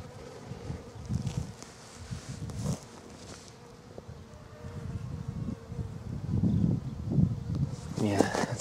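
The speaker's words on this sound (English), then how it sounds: "Bees trying to take the pollen." Bees buzz steadily around an open hive holding larvae and overrun by ants, a close, continuous insect drone with soft murmuring voices and rustling mixed in.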